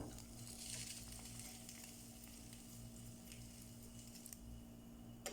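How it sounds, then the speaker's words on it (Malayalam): Tempered mustard seeds and curry leaves poured into a homestyle green tomato and dried anchovy curry, a faint steady sizzle and bubbling crackle close by, with no one speaking. "ഈ കടുക് താളിച്ചത് ഇതിലോട്ട് ഒഴിച്ചു കൊടുക്കാം."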